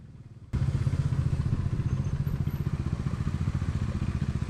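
Motorcycles ridden uphill on a mountain road: an engine starts up abruptly after a quiet opening, then holds a steady, loud, close, throbbing low rumble with regular pulsing.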